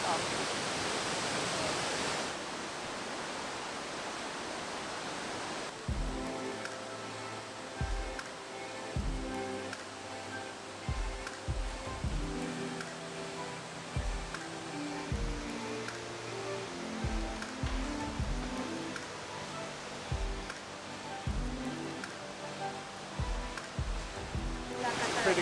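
Rainbow Falls near Hilo, Hawaii, swollen after days of rain, roars as a steady rushing hiss for several seconds, then drops low beneath a person talking.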